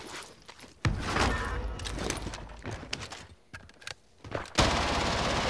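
Automatic gunfire with heavy recoil in Warzone, dense rattling bursts up close that cut in and out, with a short break before a final loud volley.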